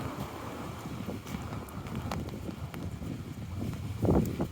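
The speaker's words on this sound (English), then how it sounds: "I'm getting a lot of wind in my umbrella." Wind gusts buffet an umbrella during a rainy walk along city streets, producing a constant low rumbling roar of microphone wind noise with a few brief louder flutters toward the end.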